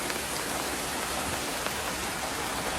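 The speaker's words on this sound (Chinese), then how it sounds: "这才是真正的瓢泼大雨" Heavy downpour hammers an electric tricycle camper, a constant hiss of pelting drops heard up close without pause or talk.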